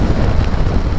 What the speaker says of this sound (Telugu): ఉన్న చినుకులన్నీ రాళ్ళలాగా పడుతున్నాయి మీద, టప్ప టప్ప టప్ప టప్ప సౌండ్ వస్తుంది